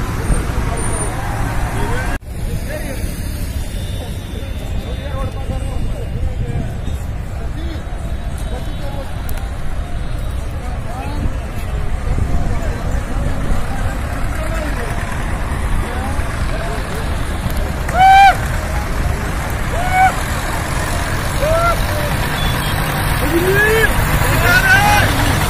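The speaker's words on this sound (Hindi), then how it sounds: "ये देखिए केएमपी पर लगातार ये भारी मात्रा में ट्रैक्टर चलते हुए" A heavy, continuous stream of tractors rolls along the KMP expressway, producing a loud, steady rumble of engines and road noise with passing vehicles, and people talking over it.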